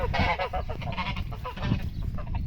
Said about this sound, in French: je vais vous emmener dans le verger pour vous montrer les oies de Toulouse